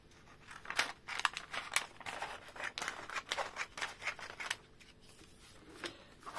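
Scissors snipping paper for a handmade gift card: a close series of crisp, irregular cuts with light paper rustling between them.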